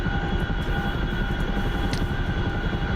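A propeller aircraft engine drones steadily in a flight simulator game, a continuous even hum with a slight fluttering pulse and no talk over it.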